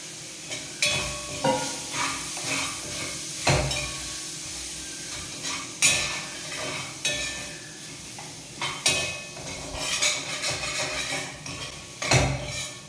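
Oil sizzles steadily in a pan as boiled legumes fry with sambar powder, while a utensil scrapes and clanks against the metal in irregular stirring strokes, close by.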